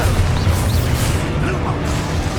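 Fire and blast spells Confringo and Expulso going off in the Hogwarts Legacy video game, a loud, dense run of booming bursts and crackling impacts over a low rumbling game soundscape.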